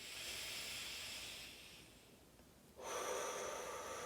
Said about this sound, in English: In through the nose,